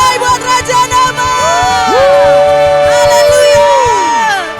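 A church congregation at a Christmas Eve service cheers loudly and continuously, a dense crowd roar with shouts and whoops, while music with sustained tones and sliding notes plays underneath.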